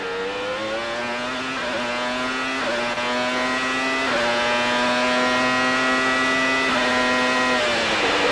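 Formula 1 Benetton race car at San Marino braking into the pit lane, a loud, close, continuous high engine whine with stepped pitch shifts as the gears change down, holding steady near a limiter.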